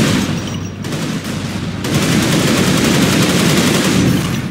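Heavy gunfire in Unreal Tournament III, a dense, loud and continuous barrage of rapid shots and blasts that never lets up.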